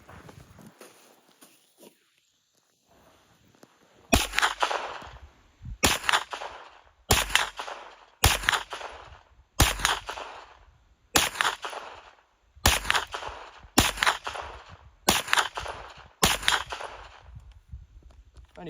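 Repeated shots from a Smith & Wesson M&P FPC 9mm carbine ring off steel gongs outdoors, about a dozen sharp reports in a steady rhythm after a quiet start, each followed by a brief metallic ring.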